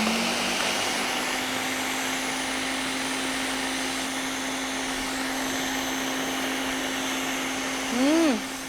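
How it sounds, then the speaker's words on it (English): Blender whirring steadily as it purees scooped mango flesh for a no-bake mango cheesecake, a constant motor drone with a brief pitch rise near the end, loud and close without talk. "Now I'm going to blend this until it becomes pureed."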